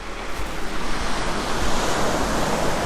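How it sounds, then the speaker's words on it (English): Surf washes onto the beach at Bremer Bay in a continuous broad roar, with rolling swells and some wind buffeting the microphone, no voices present. "But nice beach here, if you want to go for a swim."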